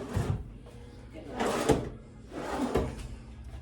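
A hotel room drawer slides open and shut a few times, with soft wooden rumbles and thumps at close range, separated by brief quiet pauses.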